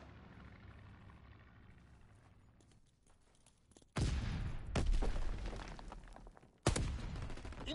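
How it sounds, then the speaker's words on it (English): Incoming enemy artillery fire in a video game: after a quieter rumbling stretch, two sudden loud blasts burst in, each followed by a dense crackling roar of explosions and gunfire. "Incoming enemy artillery!"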